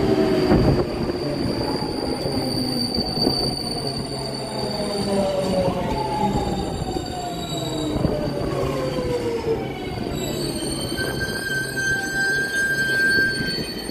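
A train at a station in Japan: steady rumbling rail noise with long, high-pitched wheel squeals rising and gliding over it, close and continuous, with no voices.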